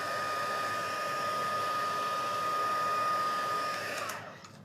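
A craft heat tool blows hot air over a shiny embossed ice cream card, a steady close whooshing hum with a faint whine that runs evenly, then cuts off at the end.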